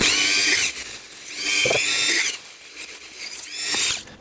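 A power drill bores through a workpiece in loud whining bursts. The motor surges and cuts out several times, with short ratcheting pauses between the runs. Nobody speaks.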